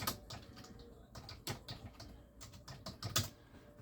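Fingers typing quickly on a computer keyboard to enter a card name, close, light clicking keystrokes in irregular bursts with small pauses, no talk.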